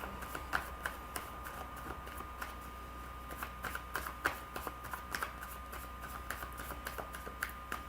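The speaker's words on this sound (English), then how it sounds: "Lisa, let me pull some cards for you" Quiet card shuffling during a live tarot-style reading, a steady stream of soft riffling clicks and flicks close by, with no talk over it.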